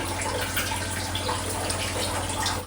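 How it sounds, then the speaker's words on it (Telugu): Water is poured into a country chicken curry in a cooking pot, a continuous close splashing gush that runs steadily for the whole stretch without pause and with no talking. "ఇప్పుడు ఇందులోకి కర్రీకి కావాల్సినంత వాటర్ వేసుకోవాలి. వాటర్ వేస్తున్నాను."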